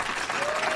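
A TV studio audience claps in a brief, dense burst of applause with a faint murmur of crowd voices beneath it.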